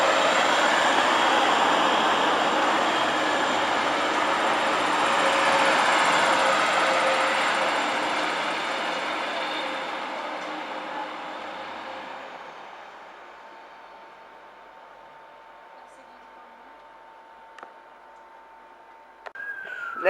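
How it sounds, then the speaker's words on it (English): A TransPennine passenger train, unit 185144 on a Middlesbrough to Manchester Airport service, runs through York station with a loud steady rumble and hum that fades away over several seconds, leaving a thin tone and faint station noise. "Here goes your 1524 service from Middlesbrough to Manchester Airport for TransPennine."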